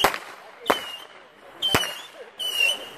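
Firework launches at a campground show, four sharp loud bangs spaced about a second apart, several followed by whistling crackle trails in open air.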